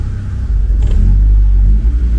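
A car engine tuned on a Speeduino ECU rumbling close by, a short rev lifting the low growl before it settles back to a steady idle.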